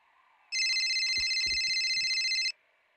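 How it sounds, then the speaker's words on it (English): A phone rings in the Gorilla Tag game, a loud electronic trilling tone starting abruptly and sounding continuously for about two seconds before cutting off, with a few soft low thumps underneath. "I'm getting a phone call"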